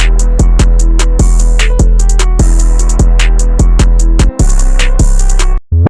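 A bounce beat with a booming 808 bass pattern, a doubled note after the third hit, pounds out alongside sharp hi-hats and snappy percussion, loud and steady.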